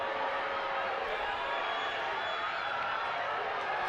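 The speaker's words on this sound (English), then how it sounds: "Saldanha crowd nice and lively as well" Steady, lively crowd noise at a Saldanha vs Gardens football match, a constant roar of many voices with a faint voice over it throughout.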